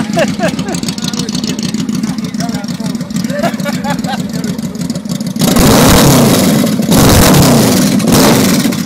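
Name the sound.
Yamaha Royal Star motorcycle engine revving with slip-on exhausts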